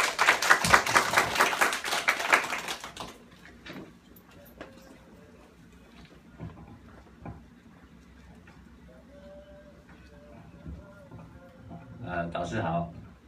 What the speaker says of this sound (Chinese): 给昌良哥一个掌声